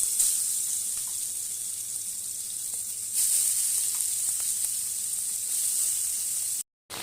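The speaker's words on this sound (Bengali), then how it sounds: "এখন চিংড়ি মাছগুলোকে ভেজে নিই।" Shrimp coated with turmeric and salt frying in hot oil, giving a loud, steady, close sizzle that continues throughout and briefly cuts out near the end.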